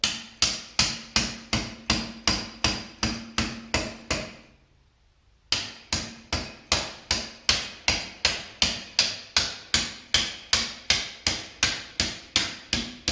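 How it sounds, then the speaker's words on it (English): Steady, rhythmic hammering, a rubber mallet striking a coilover sleeve on a Toyota MR2 in a quick even beat, pausing briefly before the regular blows resume, close and loud. "Probably just got to use a rubber mallet or something like that to hammer it down."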